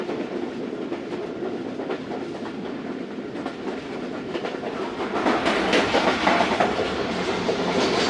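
Tezgam passenger train rolling on the rails between Karachi and Multan, a steady rumble with clickety-clack wheel beats that grows louder and busier partway through, heard from aboard with no talk.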